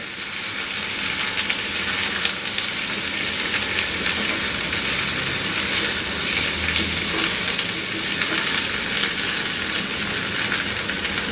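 Sliced teasel gourd (kakrol) sautéed in a pan over medium heat, a loud, continuous rain-like sizzle with scraping and stirring for the whole stretch.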